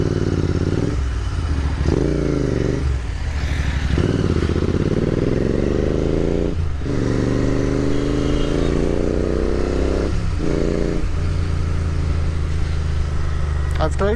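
A Royal Enfield Continental GT650 650cc motorcycle being ridden, its engine droning steadily with rising and falling revs through gear changes, heard close beneath continuous talking.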